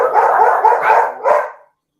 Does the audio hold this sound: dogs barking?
yes